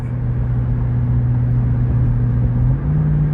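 A 2025 Ford F-150 Raptor R towing a travel trailer up a slight grade in 9th gear gives a steady low engine drone inside the cab. The hum steps up in pitch near the end.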